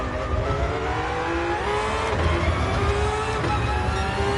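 Race car engine in Gran Turismo Sport on the Le Mans circuit near Mulsanne corner, a loud sustained roar with gear-shift pitch changes and faint tire noise, continuous and alone.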